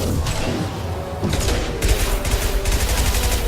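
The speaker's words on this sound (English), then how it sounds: "Affirmative. Firing an impact shot." An impact shot fires in the video game Mass Effect 2 amid rapid surrounding gunfire and booming thuds in a loud, continuous combat din.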